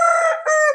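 A prized heavy rooster weighing about 4.5 kilos crows loudly and close, one full call with a brief break in the middle, and no other sounds around it.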